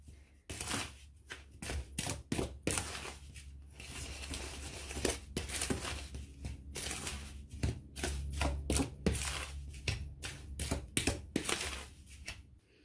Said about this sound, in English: So we'll just stir that in.